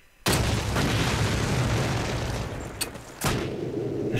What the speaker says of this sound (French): c'est quoi leur explosion?